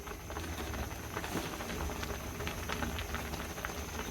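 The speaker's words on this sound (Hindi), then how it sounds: "तो इसके अंदर साग पकना शुरू हो गया है" A pot of sarson ka saag, a mustard greens dish, simmers with a steady, close bubbling and spattering that never lets up. No voices are heard.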